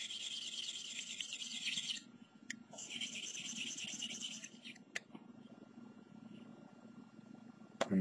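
A stab knife used for chip carving is drawn lightly back and forth across a sharpening surface, giving soft rasping strokes in two bursts with brief taps between them and a steady low hum underneath.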